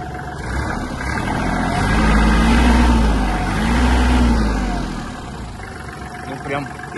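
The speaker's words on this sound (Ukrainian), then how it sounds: "Дуже чиста робота двигуна, рівно, тихенько," Kubota GL-260 mini tractor engine running close by, a steady mid-pitched drone that swells twice as the throttle rises and falls, then settles back to a smooth idle.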